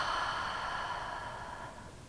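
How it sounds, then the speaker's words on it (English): A slow, steady breath through the nose during a beginner yoga session: one long, soft, airy exhale, close and alone, gradually fading. "Let's do a breath in through the nose and out through the nose or the mouth"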